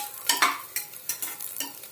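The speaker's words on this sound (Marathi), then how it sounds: "मध्यम आकाराचा एक कांदा कापून घेतलेला आहे, तो पण त्यामध्ये टाकून घेऊया आणि परतूया" Chopped onion sautéing in a pan for hotel-style veg pulao, with a steady sizzle under brisk, repeated spatula strokes scraping the pan, close and alone without voices.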